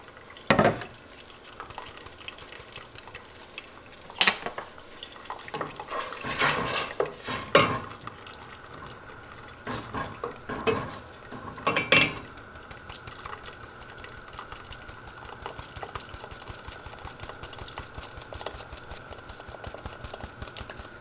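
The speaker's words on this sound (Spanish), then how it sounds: "vamos a esperar aquí a que el tomate dé una buena hervida con el aceite para poder agregarle el mole." Tomato simmering and frying in oil in a pot for Oaxacan mole, a soft steady bubbling sizzle with scattered clanks and scrapes of a utensil against the pot.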